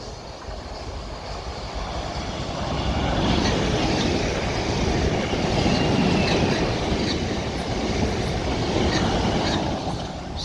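A Class 450 passenger train bound for London Waterloo passes through West Byfleet station on the South Western Main Line, a sustained rumbling roar of wheels on rails with faint clickety-clack and squeal, steady and fairly close throughout.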